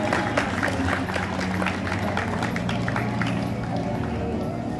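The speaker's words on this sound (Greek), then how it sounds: "Πάμε ένα χειροκρότημα στις αποφύτους" Steady, dense clapping from a large audience at a high school graduation ceremony in Trikala, Greece, filling the whole stretch at even loudness, with crowd murmur and scattered voices mixed underneath.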